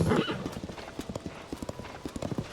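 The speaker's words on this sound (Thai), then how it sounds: "ขี่ม้าไปตามทางเลยนะครับผม" Hooves clip-clop in a quick, even rhythm as a horse is ridden along a path in The Legend of Zelda: Tears of the Kingdom, crisp and fairly close, with a brief voice at the start.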